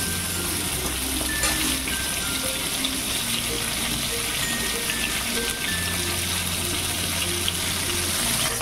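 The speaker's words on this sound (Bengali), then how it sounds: "দেখো পটলগুলো কম আঁচে আমি খুব সুন্দর করে ভেজে নিলাম।" Potatoes and pointed gourd frying in oil over a low flame, a steady close sizzle and crackle running continuously with a low hum underneath.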